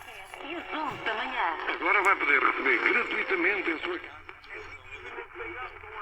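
A Panasonic R-1052 portable AM radio tuned to station CHHA in Toronto, Ontario, gives a thin, distant-sounding broadcast voice with a steady background hiss.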